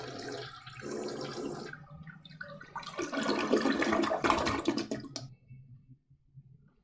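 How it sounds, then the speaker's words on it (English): A toilet flush sound effect plays as a loud, rushing gush of water that builds and churns for about two seconds before cutting off, with quieter watery noise before it. "I need to get some more flush sounds."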